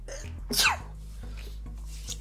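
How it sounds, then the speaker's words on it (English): A single sharp sneeze bursts out loud and close during a card game session, standing out over a faint steady background hum. "Sneezing out of nowhere."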